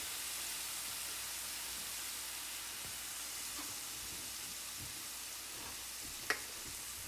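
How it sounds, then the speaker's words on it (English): Garlic and peppers fry in oil over medium heat, giving a faint, steady sizzle with a soft hiss and a single small pop near the end. "We want to get the oil to bubble around the garlic and bubble around the peppers."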